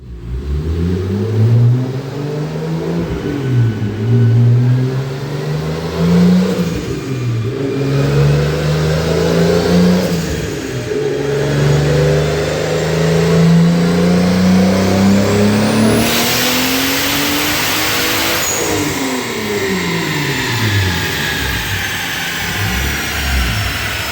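A big-turbo 2JZ engine in a Toyota Supra MK4 revs hard under load, its pitch sweeping up and down in repeated pulls, loud and close, with a hiss late in the run and no talking.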